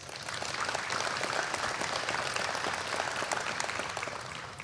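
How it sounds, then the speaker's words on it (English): Audience applause at a police change of command and swearing-in ceremony, a steady dense wash of many hands clapping that holds for several seconds at moderate distance and tapers at the end. "Please give them a warm round of applause."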